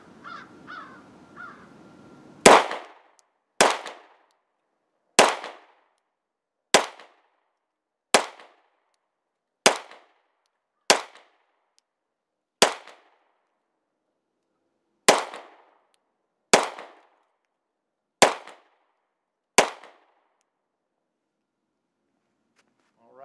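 A Sig P226R pistol fired double action at a target 18.5 yards downrange: about twelve sharp, loud shots at a slow, fairly even pace, each ringing out briefly, with low voices before the first shot.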